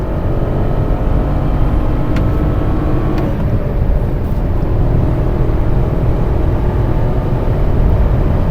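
A remapped Skoda Kylaq with a Stage 1 ECM tune drones loudly and continuously from inside the cabin as it pulls hard through the gears, with engine and road noise filling the whole stretch.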